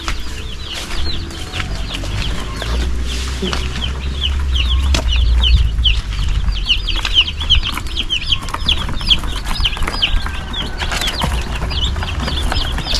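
A flock of chickens on a small farm clucking and calling steadily, many overlapping birds at close to mid distance, with a constant low rumble of background noise underneath.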